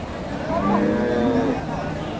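A single long, low moo from a crossbred cow rises and falls over a murmuring crowd at Hasokhali cattle market in Bogura, Bangladesh, close and clear.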